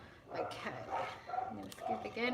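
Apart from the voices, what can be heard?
dogs barking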